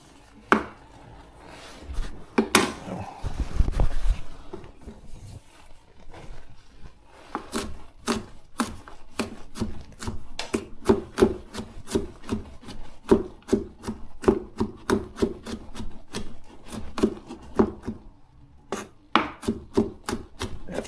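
Knife chopping food on a chopping board in a home kitchen, close and loud, with some scraping at first, then a long run of steady, rhythmic cuts with a brief pause near the end.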